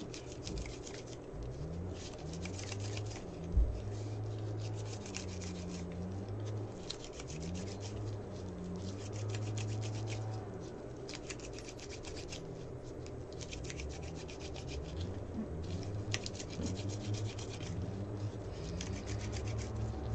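Sanding a 3D printed part by hand produces repeated rasping strokes in a steady back-and-forth rhythm, soft and close, with faint background hum.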